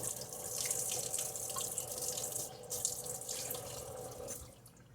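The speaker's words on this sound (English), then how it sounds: "Get the water's going pretty hot there." Hot water running from a kitchen tap into a sink for washing dishes, a steady close hiss and splash with small drips, easing off at the end.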